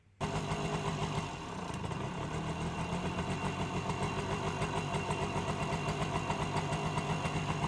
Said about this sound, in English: I'll let it warm up with a choke on for a little while